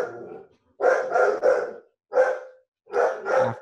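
A dog barking at a delivery person indoors, sharp loud barks in short clusters, a run of three, then one, then two more, with brief silences between.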